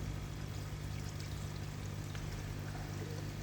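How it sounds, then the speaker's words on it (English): Water pouring out of a koi pond bottom drain onto a garden, a steady, even gushing stream that stays constant and fairly quiet throughout, with no other sounds standing out. "And also the water's flowing out now onto the garden."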